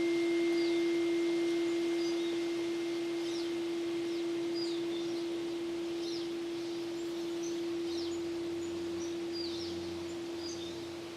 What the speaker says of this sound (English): allow those 2 tones to settle into your body